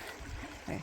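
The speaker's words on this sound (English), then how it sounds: "I've been following this little creek back and forth for quite a while now" A small creek flows along a wooded trail in autumn, a close, continuous low rushing and gurgle of water with no talking.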